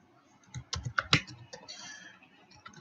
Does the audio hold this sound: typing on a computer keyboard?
yes